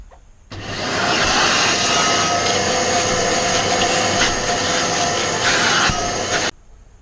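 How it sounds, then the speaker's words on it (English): A vacuum cleaner switches on and runs over a car seat for about six seconds, a loud steady whine with brief shifts in tone as the nozzle moves, then cuts off. "Just give the seat another quick go over with the vacuum cleaner."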